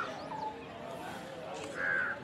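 Crows call outdoors, with faint cawing early on and then one louder, clearer caw near the end, under a soft background murmur.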